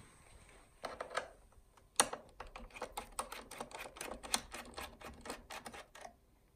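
Small Phillips screwdriver backing out tiny screws inside a 2017 iMac during an upgrade: a close series of quick, light clicks and ticks in irregular bursts, with no talking.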